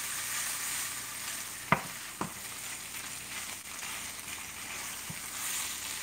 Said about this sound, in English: I'm adding in my garlic and my mixture there. And guys, this is a quick saute.